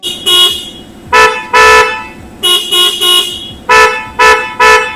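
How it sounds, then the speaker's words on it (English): A newly fitted Bosch car horn on a Proton Inspira honks repeatedly in short and longer blasts, loud and close, with brief pauses between toots over a steady background rumble. "After some adjustments to the brackets, the new horn was fitted."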